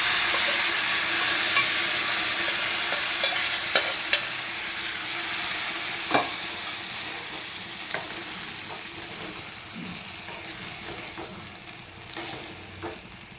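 Brinjal tempering, made with tamarind and ground paste, fries in a pan with a continuous loud sizzle and intermittent clinks and scrapes of stirring, no voices.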